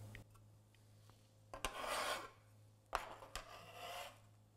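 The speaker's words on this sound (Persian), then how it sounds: "حالا من این خیارا رو میریزم توی این کاسه." Chopped cucumbers for a Shirazi salad are tipped into a bowl, giving soft, quiet scraping and rustling swishes in a couple of short bursts with small knocks, in a quiet room with no talking.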